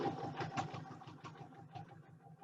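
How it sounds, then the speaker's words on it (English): A JUKI sewing machine stitching free-motion quilting: a quiet, rapid, even mechanical chatter of the needle running in a steady rhythm, close by, with no talking. "so we're just going to continue to sew down here."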